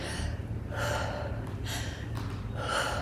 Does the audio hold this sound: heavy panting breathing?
yes